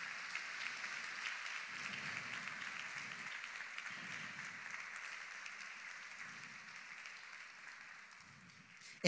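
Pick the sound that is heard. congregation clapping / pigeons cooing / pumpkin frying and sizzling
congregation clapping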